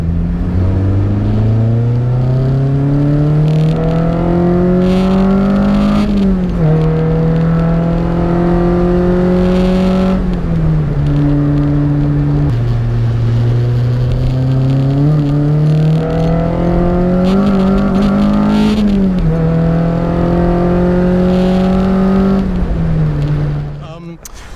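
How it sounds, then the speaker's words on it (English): A lowered Honda with VTEC and a custom Spoon chip revs repeatedly, its engine note rising and falling in long sweeps under steady wind or road noise, with voices talking over it. "you do still get quite a good noise, VTEC noise out of it"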